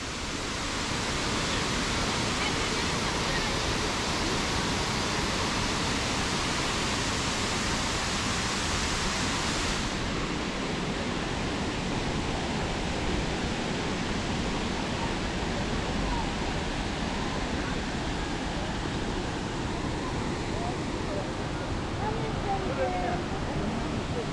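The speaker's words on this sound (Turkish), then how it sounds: "Burası Tortum Şelalesi." Constant broadband roar of rushing water, Tortum Waterfall in Erzurum, Turkey, heard up close and steady throughout, with a voice now and then underneath.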